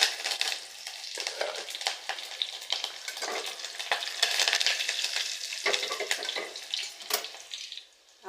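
Cumin, garlic and curry leaves crackle and sizzle steadily in hot oil for a drumming-in Marathi drumstick amti tempering, a dense close frying hiss with a few sharper spits and pops, no talking.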